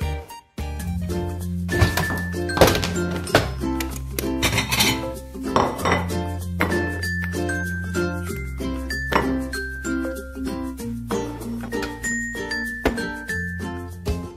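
Pans and dishes clatter and clink while a toastie is made in a home kitchen, with scattered metallic knocks over steady background music and no talking.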